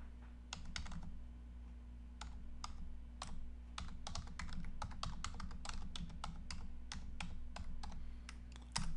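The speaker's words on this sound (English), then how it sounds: "What I'm going to do is I will type it in the chat" Keys clatter on a computer keyboard as a message is typed into a chat window, in quick irregular runs of close, crisp taps over a low steady hum.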